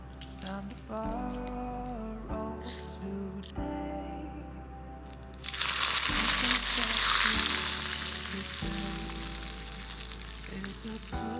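Food fries in a pan and gets stirred, starting as a faint sizzle under soft background music, then swelling into a loud, hissing sizzle midway that settles but keeps going.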